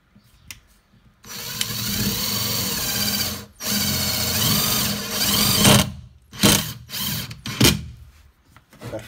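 A Parkside PDSSA 20-Li A1 cordless impact driver rated at 180 Nm drives a self-drilling screw into 2 mm thick metal, loud and close in long sustained bursts broken by short stops and a few final shorter pulses.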